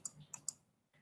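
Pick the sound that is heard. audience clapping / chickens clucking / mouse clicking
mouse clicking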